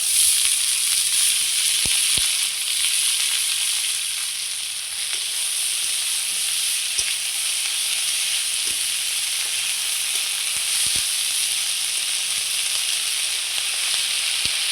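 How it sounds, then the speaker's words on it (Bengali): Dhenki greens go into hot oil that was tempered with nigella seeds and green chillies, setting off a loud, continuous close hiss and sizzle with a few sharp ticks and clicks scattered throughout. "এবার দিয়ে দিচ্ছি কেটে ধুয়ে রাখা ঢেঁকি শাক।"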